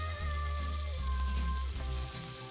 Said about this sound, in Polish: ziemniaczki mi się smażą